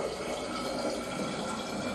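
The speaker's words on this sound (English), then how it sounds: "I want to take this water back to the container." Water poured back into a container during a science lesson on liquids, a steady splashing, trickling stream heard close and alone for a couple of seconds.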